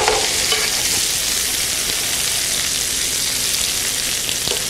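Cauliflower florets being stirred as they roast in a hot pan, giving a steady, loud sizzle throughout with faint scraping of the stirring underneath.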